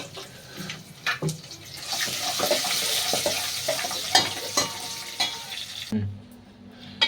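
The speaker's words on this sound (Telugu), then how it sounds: "ఇప్పుడు ఈ పప్పుని పోపు పెట్టేసుకుందామండి" Cooked dal with tomato is tempered in hot oil, giving a steady broadband sizzle with scattered spoon-stirring clicks and scrapes, close and fairly loud, then an abrupt drop to a quieter low hum near the end.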